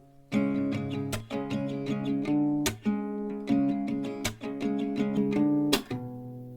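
Close acoustic guitar strumming in a repeating rhythm, with a sharp percussive slap on the guitar body punctuating each cycle.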